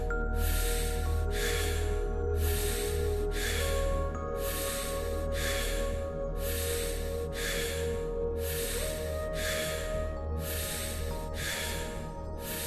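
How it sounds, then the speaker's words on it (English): Constant breathwork breathing in a meditation session, strong rhythmic breaths drawn and released in steady paired pulses, close and loud over a continuous droning music bed, with no talk. "constant breathing."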